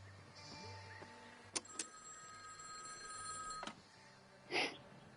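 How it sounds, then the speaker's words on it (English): Payphone ringing in the game The Artful Escape, a quiet electronic trill repeating over a low hum, punctuated by a few sharp clicks and a brief louder burst near the end. "Remember, it's always a good idea to answer a payphone."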